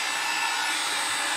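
A heat tool blows air across alcohol ink on an A7 card background, giving a steady, close, loud whooshing fan roar that carries unchanged throughout, with no other sounds.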